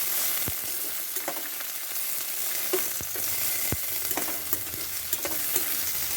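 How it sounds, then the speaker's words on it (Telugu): Green chillies fry in a kadai with a constant bright sizzle, cut by occasional sharp clinks and scrapes of a stirring spoon, close by with no voices. "తరువాత అదే కడాయిలో పచ్చిమిర్చి కూడా యాడ్ చేసుకొని బాగా వేగే వరకు వేయించుకోవాలి."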